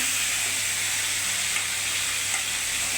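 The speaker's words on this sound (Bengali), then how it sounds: "বাকি মাছগুলো ফ্রাই করছি।" Fish pieces fry in a kadai, producing a loud, steady, dense sizzle that holds unbroken for the whole stretch, with no talking.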